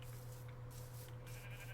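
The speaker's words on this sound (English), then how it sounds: "Oh, I hear a sheep." A sheep bleating in a video game, heard faintly once or twice over a quiet, steady background hum.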